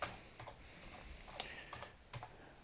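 Typing a search on a computer keyboard, a handful of faint quick key clicks in small uneven bursts, close but quiet with no talk.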